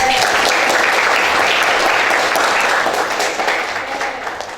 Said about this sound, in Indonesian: Kita tepuk tangan dulu buat Adil